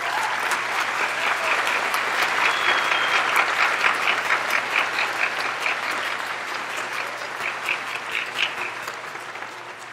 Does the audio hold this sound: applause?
yes